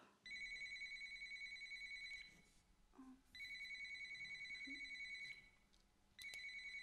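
A telephone rings in repeated electronic bursts, three rings with short pauses between them, loud and close in a quiet room with no talking.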